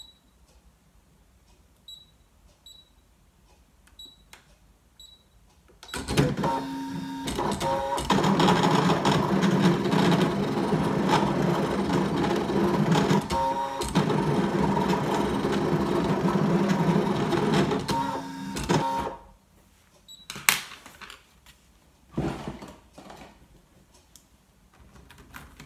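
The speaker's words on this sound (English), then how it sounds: "I'm going to ask the machine to cut it and see what I get" A Brother ScanNCut machine cuts the outline of a stamped card, starting abruptly into a loud, continuous mechanical whir with small shifts in pitch, then stopping, followed by a few faint clicks.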